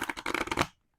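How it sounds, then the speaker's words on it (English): A thick Afro Goddess Tarot Arcanas deck gets a brief riffle shuffle, a close, fluttering burst of card flicks lasting under a second before cutting to silence. "I figured that I could shuffle it, but I may not be able to, like, I can riffle it maybe"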